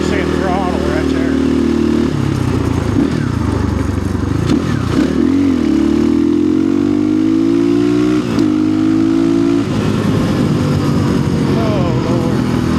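Chinese dual-sport dirt bike engine held near 85% throttle on a West Virginia trail, a loud steady buzzing drone with rising and falling pitch and rattling, close to the microphone throughout.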